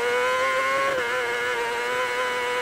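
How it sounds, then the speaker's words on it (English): A racing motorcycle at the Isle of Man TT, near Kirkmichael, engine holding high revs in a steady loud whine as the bike vibrates over a bumpy road surface, the pitch wavering slightly. "you hear the vibration of the bike here on the revs as we go over these bumps"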